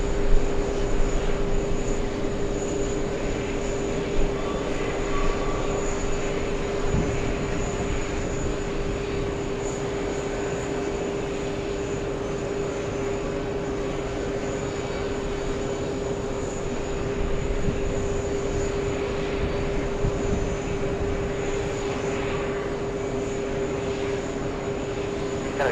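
Airplane taking off at JFK airport, a steady broad engine roar with a strong sustained hum, fairly loud and continuous throughout with no talk.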